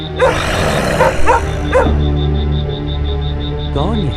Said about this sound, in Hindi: कुत्ते एक ही दिशा में देखकर भौंक गए।